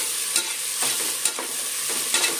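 Onions frying with ginger and garlic for chicken biryani, a continuous bright sizzle broken by several rhythmic scrapes of a spoon stirring the pan, close and alone.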